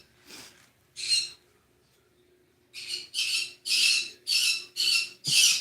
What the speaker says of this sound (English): we are now pretending the birds are not throwing a screaming fit in the background